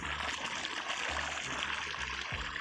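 Water runs through a field channel in a village farm area, a steady close trickling rush that continues without break and with no voices.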